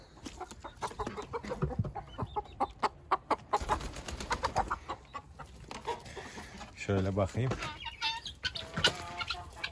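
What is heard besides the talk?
chickens clucking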